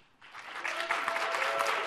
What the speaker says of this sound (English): a lot of applause from the side over here